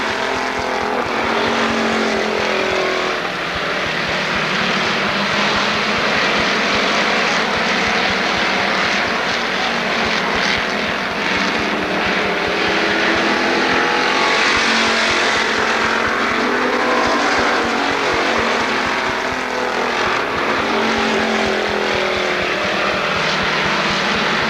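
NASCAR Weekly Racing Series stock cars race at Lorain County Speedway, a dense, continuous engine roar from the pack that holds loud and steady throughout.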